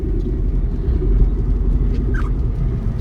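Low, steady engine and road rumble from a 2013 Mercedes-Benz C250 being driven, a continuous droning hum filling the cabin with no talk.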